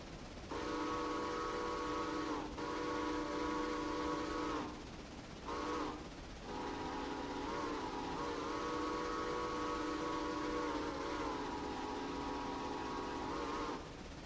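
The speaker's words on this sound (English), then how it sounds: "I think the whistle does sound a lot better" A long, deep chime whistle from an EBT steam locomotive in Railroader sounds in several sustained blasts with short gaps between them, loud and full-bodied over a steady background hiss.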